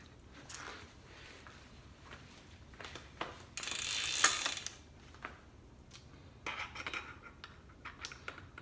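A tool snugs a bicycle pedal tight: scattered light ratcheting clicks and metallic ticks spread across the clip, with one loud, sustained burst of clatter near the middle, close by and with no speech.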